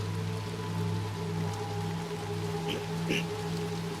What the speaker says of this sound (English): Obviously now it's raining.